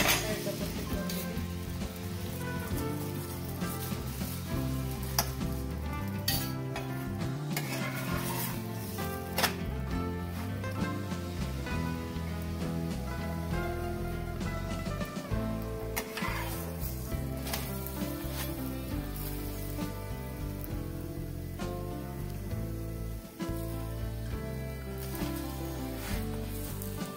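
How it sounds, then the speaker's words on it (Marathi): A sabudana paratha fries in ghee on a hot pan, giving a steady dense sizzle with scattered crackles and occasional scraping or flipping sounds, close and continuous with no talking. "पराठा परतून दुसऱ्या साइडला पण तूप लावून घेते."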